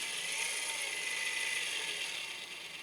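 A VEVOR rotary welding positioner turns slowly, giving a steady mechanical whir with a faint ratcheting texture that holds evenly throughout.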